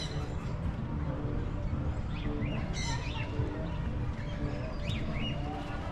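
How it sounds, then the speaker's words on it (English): Parrots at a zoo garden give a few scattered squawks and chirps over steady outdoor background noise, with faint voices in the distance. "think these are parrots here"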